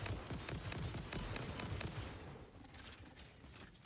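Rapid magazine-fed gunfire in a video game, a dense run of fast shots up close for about two seconds, then quieter scattered fire and mechanical clatter trailing off.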